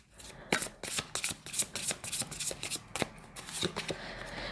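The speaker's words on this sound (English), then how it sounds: "I'm going to pull an oracle card for you for the weekend." An oracle card deck is shuffled close up, a quick run of crisp papery riffles and flicks in uneven bursts, fairly quiet and with no voices.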